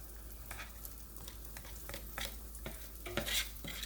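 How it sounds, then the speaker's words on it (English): Green onions stirred into a hot pan, sizzling and frying steadily with repeated scraping stir strokes, close and fairly quiet, no talking. "Now we got our green onions. I'm gonna go ahead and drop those in here."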